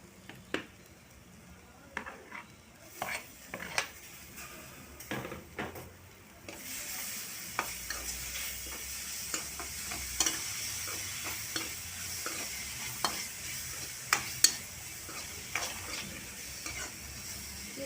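Onion and tomato sautéing in a pan, quiet sizzling that grows fuller partway through, punctuated by repeated scraping and tapping stirring strokes at a moderate distance.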